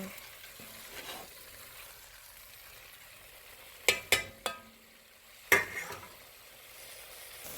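Chicken stock ingredients in a pot give off a faint low sizzle, broken by a few sharp clanks and scrapes from stirring, no voices.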